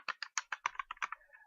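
A Guitar Hero guitar controller's plastic fret buttons clack in a quick, uneven run of about ten sharp taps, close and dry with nothing else around them.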